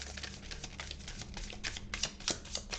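Tarot cards being handled and laid down one by one, giving a string of soft, quiet papery taps and slaps at an uneven rhythm, close by with no talking.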